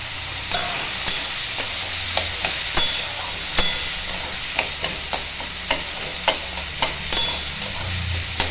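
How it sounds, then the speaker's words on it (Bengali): Figs sizzling in a pan with softened tomatoes, a steady fry hiss broken by regular sharp scrapes of a stirring spatula roughly every half second, close and fairly loud. "ডুমুরগুলো একটু ভেজে নেব ভালো করে।"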